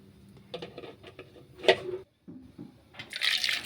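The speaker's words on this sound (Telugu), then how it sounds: "అందులో వాటర్ పోసుకొని ఉప్పు వేసుకొని ఉడికించుకోవాలి." Water pours and splashes into a metal pot in short bursts, for boiling split moong dal with salt, followed by a brief pause and a louder, hissing rush of liquid.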